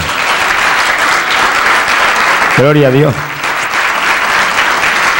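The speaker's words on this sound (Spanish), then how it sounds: "Vamos a dar el aplauso bien fuerte a Jesucristo" A church congregation at a pastors' conference applauds loudly in a steady, dense roar that fills the whole stretch, while a voice briefly calls out over it in the middle.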